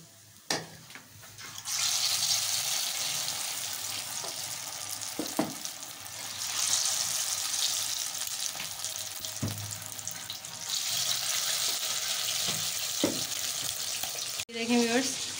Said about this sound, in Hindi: इसको फुल फ्राई करनी होती है, ऐसे क्रिस्पी होगी ये